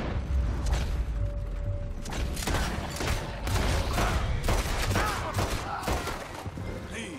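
Red Dead Redemption 2 gunfight against United States Army soldiers, with a rapid fusillade of gunshots and mechanical clicks and clatter over steady game ambience, loud and close throughout.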